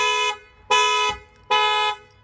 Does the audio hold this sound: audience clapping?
no